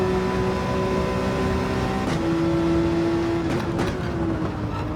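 Porsche 911 engine in Gran Turismo 7 holds a steady, droning tone at sustained speed through turns, with a brief shift in pitch partway and a few quick downshift blips near the end.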